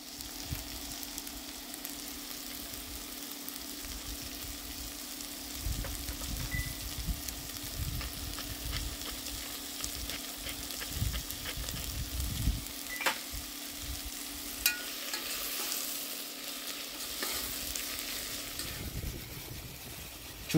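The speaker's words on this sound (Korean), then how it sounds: "그리고 아까 채 썰어둔 마늘과 양파를 넣습니다. 색이 나지 않도록 잘 볶아줍니다." Garlic and onion strips sizzle steadily in a pan, then zucchini goes in, with bursts of stirring and scraping over a continuous fry hiss near a wood-fired oven, no voices.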